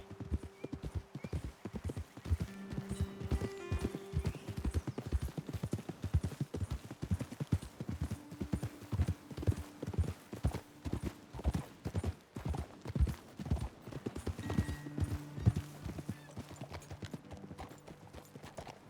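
Horses walking in the Red Dead Redemption 2 video game, their hooves clip-clopping steadily and close throughout, with occasional low snorts and a brief whinny, mostly free of talk.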